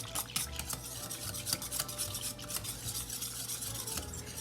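Metal whisk scraping and clinking rapidly against a bowl while mixing ingredients, a steady busy rattle of utensil on dish, close and moderately loud with no talking.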